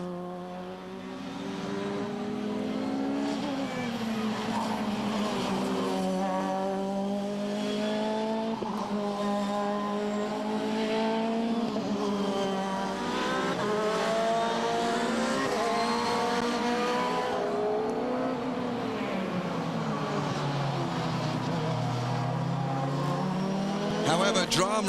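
Race cars in a VHC endurance race, including a Norma, roar past in a long stretch of loud engine noise with rising and falling revs and gear changes, under continuous commentary.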